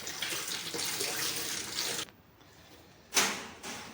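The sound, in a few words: tap running water for a dog to drink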